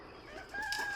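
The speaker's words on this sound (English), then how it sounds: "That rooster's trying to breed that other rooster." A farmyard rooster crows once, a short, moderately distant call cutting through a quiet outdoor background.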